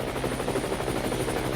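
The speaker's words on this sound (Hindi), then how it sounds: "लगता है हेलीकॉप्टर लैंड कर गया है" A helicopter landing, its steady rotor thump and engine drone running continuously and loud throughout.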